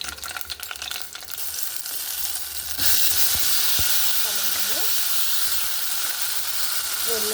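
Green chillies drop into hot oil for a tomato chutney, and a loud, steady sizzling hiss bursts in about midway after some faint kitchen clatter, then carries on to the end.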